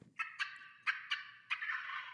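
A wild turkey tom gobbling in a hunting-call radio ad, several loud rattling gobbles in quick bursts, the last one drawn out, clear and close with no talking.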